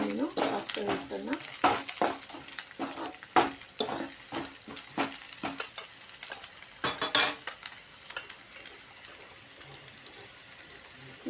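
Okra frying in a pan as turmeric goes in, with steady sizzling and repeated clinks and scrapes of a spoon stirring against metal, busy and close, no speech.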